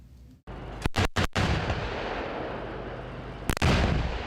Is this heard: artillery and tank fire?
yes